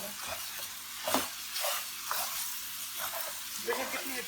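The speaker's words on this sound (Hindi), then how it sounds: "अब इसके अंदर मैक्रोनीज डालें और इसको मिक्स करें।" Macaroni is stirred into a chicken and vegetable mixture in a pan, with a soft continuous sizzle and repeated scraping strokes of the spoon at an even rhythm, fairly quiet and close.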